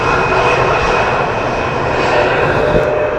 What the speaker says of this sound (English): another no thrust reversers landing by the KLM City Hopper Embraer